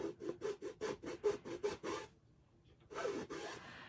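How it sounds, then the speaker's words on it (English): A file rasps against a wooden end table in a steady rhythm of about ten quick back-and-forth strokes, then a short pause before another stretch of continuous scraping, close and clear. "I wish I just had a file that I could put in and sand around"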